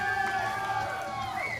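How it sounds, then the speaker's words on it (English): A crowd at a powerlifting championship cheers and shouts steadily for a lifter's deadlift attempt, a dense roar of voices that stays level throughout. "Getting plenty of support from the crowd."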